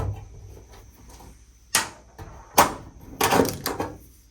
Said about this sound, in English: let's remove this little access panel here